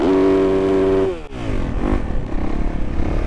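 A Yamaha YZ engine is revved hard in a neighborhood street, with a loud sustained high rev that drops off sharply, then a few more blips and a throaty idle clatter close by.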